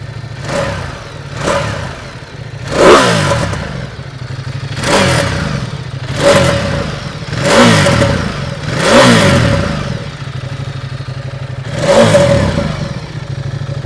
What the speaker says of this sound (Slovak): A aká by to bola Ducati bez krásneho zvuku motora, čo vám hneď musím ukázať.